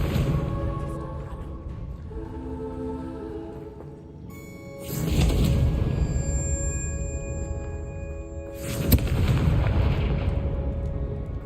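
Confringo fire spells blast in the Hogwarts Legacy video game, with heavy booming explosions and ringing bursts, two big impacts about four seconds apart over a dense rumbling soundscape, loud and close.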